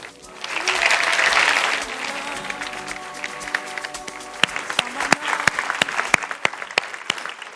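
An audience at a trade show panel claps for the panelists, a dense wash of applause that swells early, then thins into scattered individual claps toward the end.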